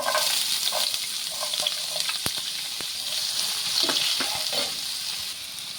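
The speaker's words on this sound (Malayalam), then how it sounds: "നമ്മൾ മീൻ പൊരിച്ച അതേ എണ്ണയിലേക്ക് തന്നെ നമ്മൾ അരിഞ്ഞു വെച്ചിരിക്കുന്ന കൊച്ചുള്ളി" Chopped shallots sizzle loudly in the oil left over from frying fish, a dense close hiss with a few light crackles and spoon taps, with no talking.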